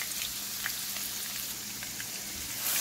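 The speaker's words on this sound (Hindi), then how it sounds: "ये हमारा प्याज है, ये ब्राउन हो रहे हैं" Small onion browning in ghee in a pan for dhaba-style mash ki daal, a steady soft sizzle and crackle of frying with faint pops throughout.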